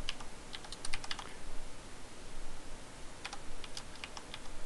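Fingers type on a computer keyboard in two quick bursts of light key clicks over a steady background hiss, with no voices, close but fairly quiet.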